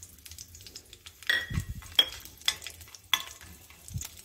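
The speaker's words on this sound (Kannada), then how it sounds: "ಸ್ವಲ್ಪ ಬಾದಾಮಿನ ಕಟ್ ಮಾಡಿ ಇಟ್ಕೊಂಡಿದ್ದೀನಿ, ಅದನ್ನು ತುಪ್ಪದಲ್ಲಿ ಹುರಿದು ತಗೊಳ್ಳೋಣ." Chopped almonds fry in a few tablespoons of ghee in a pan for carrot halwa, a quiet sizzle broken by a few spoon scrapes and light clinks against the pan.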